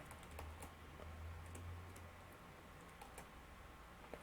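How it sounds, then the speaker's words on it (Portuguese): Someone types a MATLAB command on a computer keyboard: a few quick, light keystroke clicks, near but faint, spread over a quiet background with no voice. "eu posso digitar o comando angle"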